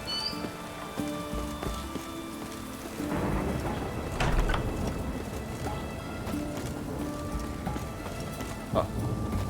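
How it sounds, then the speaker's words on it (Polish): Steady rain pours down, a dense continuous patter with occasional louder drops and splashes, fairly close and with no voices. "Jak pada, to musi być mokro."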